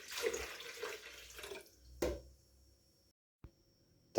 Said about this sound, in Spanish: en una procesadora colocamos la pulpa de pitanga negra y le agregamos medio litro de agua